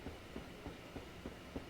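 A video-game freight train hauling HOA aggregate wagons rolls along the track with a regular clickety-clack of wheels over rail joints, repeating about every third of a second under a low rumble.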